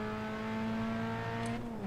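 A Grand Touring Cup race car in the iRacing game at Mosport, running alongside: a loud, steady engine drone with layered tonal harmonics holding close and continuous for about two seconds.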